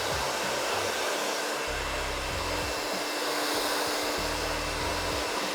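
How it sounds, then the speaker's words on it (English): A hair dryer blows steadily and loudly while drying short, scissor-cut hair, a continuous broadband whoosh with a fluttering low rumble that rises and dips, with no voices. "Using your hairdryer."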